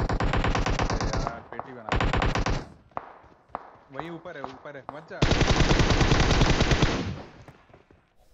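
Bursts of automatic gunfire from the video game PUBG Mobile, several long rapid volleys separated by pauses and scattered single shots, loud and close, with someone talking briefly between them.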